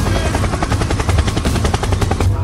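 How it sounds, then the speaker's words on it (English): Helicopter in a Minecraft animation, its rotor chopping in a fast, loud, steady rhythm of pulses that carries on without a break. "helicopter, helicopter."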